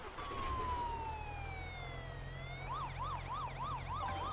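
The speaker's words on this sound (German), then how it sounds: "Und dann kommt der Krankenwagen." An ambulance siren sounds in the bridge-building video game Poly Bridge 2, sliding down in a long wail and then switching to a fast warbling yelp, moderately quiet over a low background hum.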